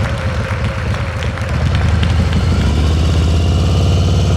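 A motorcycle engine idles and putters during slow-speed riding practice, a close, loud, steady rumble that thickens as the throttle picks up slightly.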